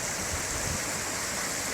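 A freshwater creek at Mill Creek on the Big Sur coast pours out in a steady, even rush of running water, continuous and fairly close, with no voices.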